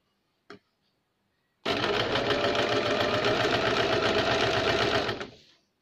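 A sewing machine stitches a thin dori (cord), running in one steady mechanical burst of rapid rhythmic clatter after a brief click, close and loud, then winding down.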